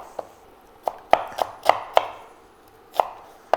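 A kitchen knife chops vegetables into half-moon slices on a cutting board for a one-pan red curry, making about nine sharp, crisp knocks spaced at an uneven pace, close and clear with no talk.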